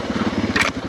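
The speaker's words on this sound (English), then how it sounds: "Single tracking the DR650 here on this beautiful day." A Suzuki DR650 dual-sport motorcycle rides a wooded single track, its single-cylinder engine thumping in a steady, close, rapid chug for a brief moment.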